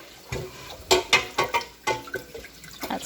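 Water splashes and trickles in short irregular bursts as it is poured while baking, fairly quiet and close, with no talking.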